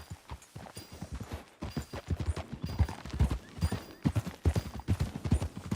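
A horse ridden in Red Dead Redemption 2 gallops with a fast, rhythmic clip-clop of hooves close by, beats coming in quick clusters over a light background.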